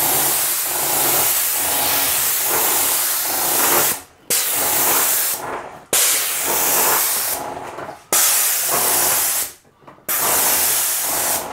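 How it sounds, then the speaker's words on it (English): A paint sprayer hisses in long, steady bursts as it mists water onto a popcorn ceiling, with short pauses between about four sprays and no talking. "this is the first time I've used this paint sprayer, so it's a good thing that I'm doing this with this first, spraying water"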